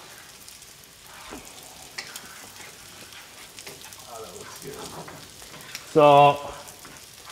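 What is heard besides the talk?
liquid for Alfredo sauce cooking in a pan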